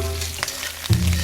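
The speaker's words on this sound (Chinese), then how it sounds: "热锅冷油，下姜块爆香，放入鱼头和鱼骨，煎到表面金黄" Fish head and bones with ginger pieces fry in a hot pan of oil, producing a close, continuous sizzle with a brief rise in crackle partway through.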